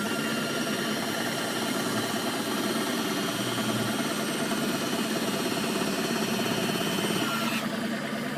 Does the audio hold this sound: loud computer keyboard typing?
no